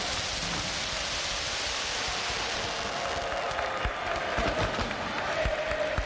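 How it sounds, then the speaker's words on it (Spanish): A crowd applauds at a ribbon-cutting ceremony for Paraguay's Club Libertad, giving a continuous hiss of clapping that swells slightly toward the end. "Aplausos, por favor."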